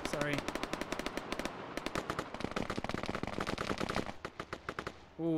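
Vermin submachine gun fire in an esports video game match, rapid bursts of sharp automatic shots in quick rhythmic strings, loud and close, with a commentator's voice speaking alongside.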